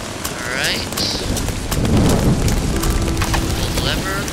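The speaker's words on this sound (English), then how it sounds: "once you activate the machine it causes the rain to start" Steady rain falls after a machine is activated in the video game Toby: The Secret Mine, a dense wash of patter with a low rumble building in the middle and brief tonal game effects over it.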